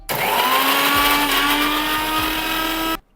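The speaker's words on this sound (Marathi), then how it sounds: "आता आपण हे जे कढीपत्ता, मिरची, आलं, लसूण घेतलेलं आहे हे मिक्सरवरती आपल्याला बारीक असं फिरवून" A kitchen mixer grinds curry leaves, green chilies, ginger, garlic and coriander into a paste, giving a loud steady motor whine with a rising pitch that runs for about three seconds before stopping abruptly.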